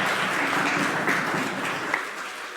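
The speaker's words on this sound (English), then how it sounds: "So let's give them a big round of applause." A church congregation applauds a youth group in a brief, dense burst of clapping that fades a little toward the end, heard at moderate volume in a large room.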